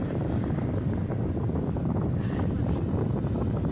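An air cooler runs indoors with a steady, loud, broadband whooshing drone that holds constant from start to finish.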